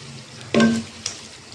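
Spoon stirring chicken and tomato in a cooking pot, a single brief scraping, sizzling stir followed by a fainter second knock, close by with no talk.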